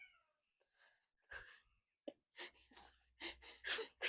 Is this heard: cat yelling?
yes